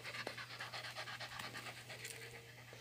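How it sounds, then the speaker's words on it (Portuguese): A female dog pants rapidly and steadily close by in a garden with lavender and flowers, a continuous rhythmic breathing with no voices. "Aqui tem uma cachorra aqui, ó."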